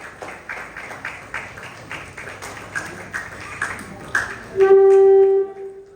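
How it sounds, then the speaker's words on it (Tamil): Rhythmic, evenly spaced clapping from an audience cheering for contestant Hetsiya at the Magudam 2024 final competition, moderately loud, ending in a sustained steady electronic tone. "இதோ பலமான கரகோஷம் ஹெட்சியாவுக்காக"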